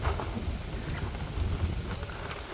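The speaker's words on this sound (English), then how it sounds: "Some serious wind gusts coming through here" Steady wind gusts buffeting the microphone at a boat launch where a sailboat is being rigged, a constant low roar and rumble with no clear pauses and no talking.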